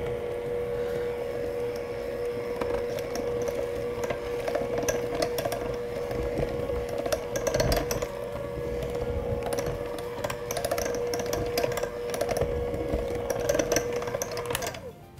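A blender runs continuously for about fifteen seconds, grinding onion, thyme and flour into a batter with a steady motor whine and rattling, loud and close.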